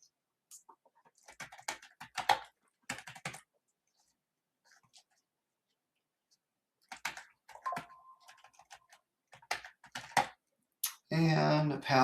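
Computer keyboard keys click in short, scattered bursts of typing while a name and password are entered to sign up in an app, with a voice talking between the bursts.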